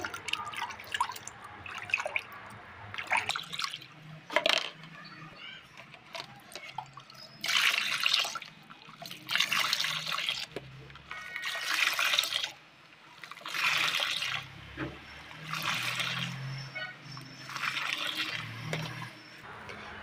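Water splashing and dripping as an air cooler is rinsed out by hand at home, coming in repeated bursts of pouring and trickling with short quieter gaps between, close and fairly soft, with no voices.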